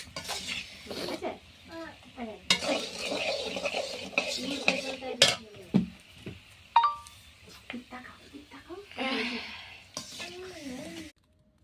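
Tamarind is stirred and mashed with warm potato for fuchka filling, giving repeated scraping and clinking of a utensil against a bowl, irregular and close, with someone talking throughout.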